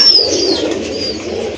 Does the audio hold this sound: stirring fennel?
no